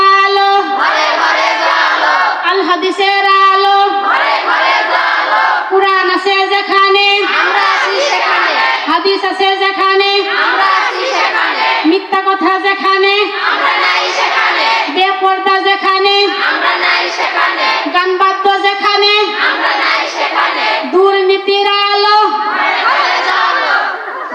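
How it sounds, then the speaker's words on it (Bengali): Large religious gathering at a Bangla waz sermon chanting the takbir in unison, a loud rhythmic call-and-response of massed voices repeating in steady bursts throughout. "এখন সবাই বলেন লিল্লাহে তাকবীর আল্লাহু আকবার"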